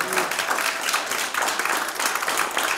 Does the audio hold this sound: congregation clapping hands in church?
yes